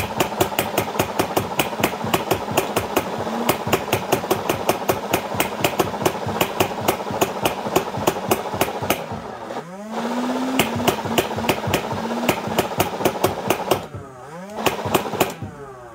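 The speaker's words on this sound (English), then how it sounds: "I'm going to fire the Rival Nemesis, and you're going to see all the balls jiggling around in the hopper" Nerf Rival Nemesis blaster firing in rapid, steady bursts, a loud mechanical clatter of repeated shots with rattling balls in the hopper, pausing briefly twice as a motor whine rises before firing resumes.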